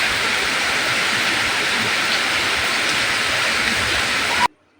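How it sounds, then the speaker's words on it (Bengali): Heavy rain pours outdoors in a steady, dense roar that stays loud throughout and then cuts off abruptly near the end. "প্রচুর বৃষ্টি হচ্ছে।"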